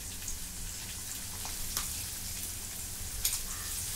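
Coarsely ground roasted garlic and chili paste fries in a pan over a very low flame for crispy chili thecha, a soft, even sizzle with occasional light crackles.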